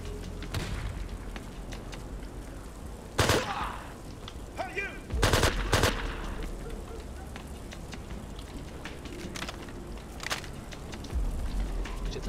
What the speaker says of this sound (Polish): to na pewno był snajper.